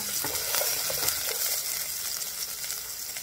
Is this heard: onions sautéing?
yes